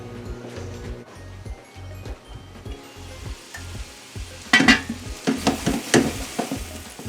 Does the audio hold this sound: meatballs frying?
yes